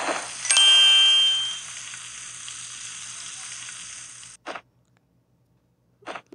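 Cartoonish food sizzle in a Toca Life kitchen game, opening with a bright ding and a loud frying burst that settles into a steady hiss, then cuts off and is followed by two short clicky blips.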